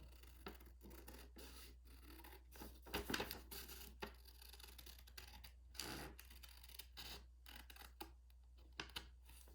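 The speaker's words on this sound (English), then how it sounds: "I'm just going to take my scissors and I'm just going to carefully cut" Scissors snipping through paper, a series of quiet cuts and rustles with short pauses between them, close and faint.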